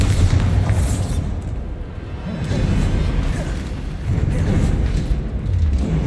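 A Bombarda spell explosion in Hogwarts Legacy, heavy rumbling booms swelling and fading in waves amid dense combat noise.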